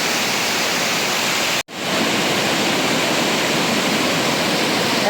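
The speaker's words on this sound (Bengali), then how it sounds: "ঝর্ণার উপরে স্তর থেকে ঝর্ণাটা প্রবাহিত হচ্ছে এবং এটা শেষের নিচে নামতেছে" Ruposhi waterfall on the Kamaldaha trail in Bangladesh pours down in a steady, loud, unbroken rush of falling water, interrupted only by one brief dropout.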